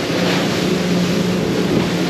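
Motorboat running with following seas on an open-water crossing from Bimini to Miami, its engine a loud steady drone with rushing water and wave wash throughout, no voices.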